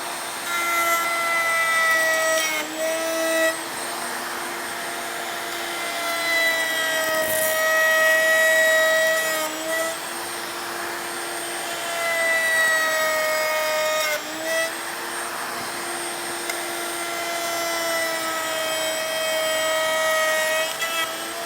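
A router on a Triton TWX7 modular workcentre router table cuts a 1/4 inch rabbet in wood, a loud, sustained high whine with the pitch dipping as the board is fed through.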